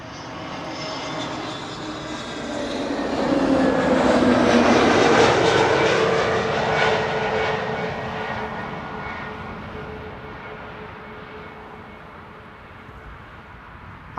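Airliner passing at Amsterdam Schiphol Airport, a jet engine roar that swells to a loud peak mid-clip with a falling whine, then fades slowly into the distance, with no talking.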